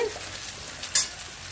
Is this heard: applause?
no